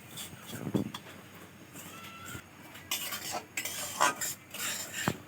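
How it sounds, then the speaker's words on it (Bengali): Semolina frying in ghee is stirred in a pan to make sitabhog sweets, with intermittent scraping and clinks from a utensil against the metal and a faint sizzle underneath, heard close. "দেখো ঘি দিয়ে সুজিটা একটু ভালো করে ভেজে নিতে হবে।"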